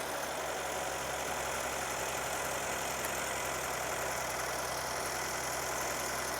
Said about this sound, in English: the engine is running and it sounds good